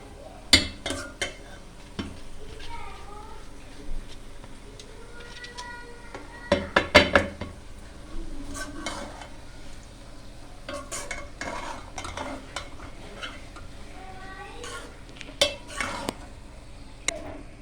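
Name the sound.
stirring rice with jaggery in a pot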